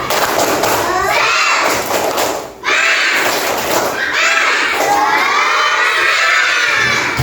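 A class of young schoolchildren in Kelas 2 shouts a loud group chant with claps and thumps. Their voices rise and fall in two or three bursts with a brief drop in the middle, close and crowded.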